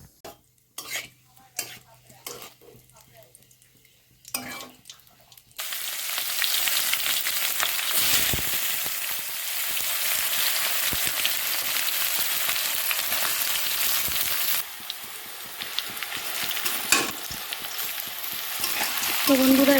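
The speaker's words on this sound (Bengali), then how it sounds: "আমার এদিকে মাংসের জন্য সোমবারের পেঁয়াজ এগুলো ভাজা ভাজা করে নিচ্ছি।" Onions frying for a meat curry in a home kitchen, a steady loud sizzle that starts after a few seconds of quiet clinks and runs on continuously with occasional utensil stirring scrapes and clatters.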